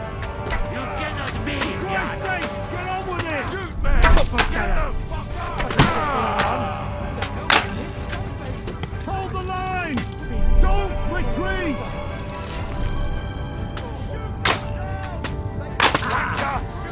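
Gunfire in the video game Kingdom Come: Deliverance 2, several sharp shots and thuds scattered across a busy battle scene with music-like tones and voices talking and shouting throughout.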